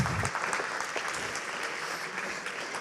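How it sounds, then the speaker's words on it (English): Audience applause at an aerospace awards ceremony, a dense steady clapping from a crowd filling the room, sustained at an even level throughout with no talk over it. "I propose to applaud them"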